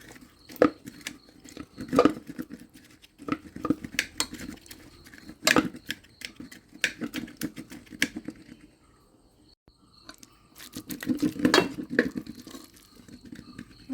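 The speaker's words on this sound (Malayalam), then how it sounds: "ഈ കുക്കറിൽ കുറച്ച് കടല ബാക്കി വെച്ചിട്ടുണ്ട് ഇത് നമുക്ക് നല്ലോണം ഉടച്ചിട്ട് ഇതിലേക്ക് ചേർത്ത് കൊടുക്കണം" Cooked chickpeas are mashed inside a pressure cooker, giving irregular metallic clinks and scrapes of a utensil against the pot in bursts with short pauses, close and fairly sharp.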